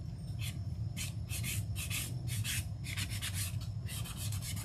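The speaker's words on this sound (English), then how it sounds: "we'll take our sanding block and then just kind of sand some of these edges here" Sanding block rubbed back and forth along the edges of a painted scrap 4x4 wood block, a steady series of close, raspy scraping strokes in quick rhythm over a low background hum.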